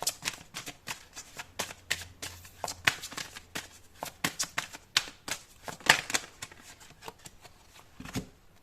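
Tarot cards are shuffled and drawn up close, producing a quick run of crisp riffling flicks and soft slaps that come in uneven bursts, fairly quiet, with no voice heard.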